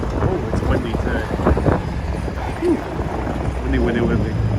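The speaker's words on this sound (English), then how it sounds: "Oh, it's windy today." Gusty wind buffets the microphone on a city street near Rockefeller Center on a cold day, a steady low rumble with swelling gusts, while a person talks throughout.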